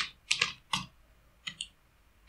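Sparse keystrokes on a computer keyboard while a captcha is filled in: a handful of crisp, close clicks in small irregular clusters with quiet gaps, no voices.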